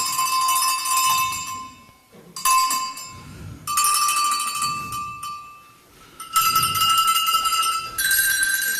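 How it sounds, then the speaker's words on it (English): Cowbells ring in several bright, clanging bursts separated by short pauses, close and clear, during a magic show with audience participation; faint voices sit underneath. "when I point my hand at you like this, you ring the bell"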